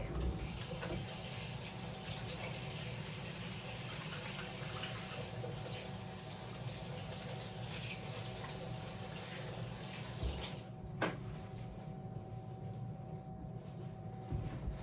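A kitchen tap runs steadily while hands are rinsed under it during brownie baking, a continuous close rush of water lasting the whole stretch with no talk.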